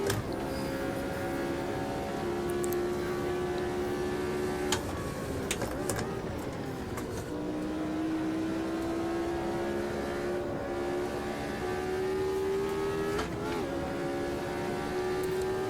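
Flat-12 Alfa Romeo engine of a Brabham race car in Automobilista 2 drones steadily throughout, its pitch sagging and then climbing again through gear changes, loud and close with no talk.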